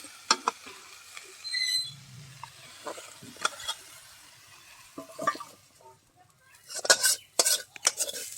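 Fried jackfruit pieces are tipped out of a pan, with scattered clinks and scrapes of utensil on metal, a soft residual sizzle, and a louder burst of clattering near the end.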